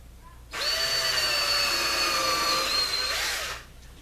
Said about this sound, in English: And then I'm going to drill, and I'm going to countersink this